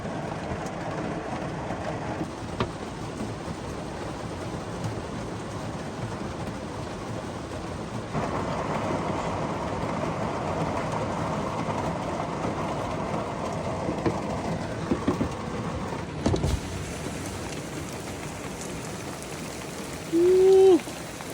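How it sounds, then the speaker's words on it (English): Rain falling on a camping van, a dense steady patter that swells for a while in the middle, with a few small knocks and a short burst of a voice near the end. "She's raining pretty good right now."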